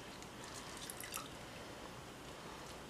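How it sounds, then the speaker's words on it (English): Juice from a squeezed lemon drips and trickles into a pan, a close, steady wet patter with faint squishing, no voices. "what I'm going to do first is squeeze the juice into the pan"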